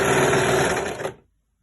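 Sewing machine stitching a jersey fabric headband, a loud, close, steady high-pitched whirring run that slows and stops after about a second, followed by silence.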